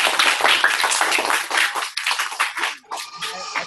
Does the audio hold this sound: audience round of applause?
yes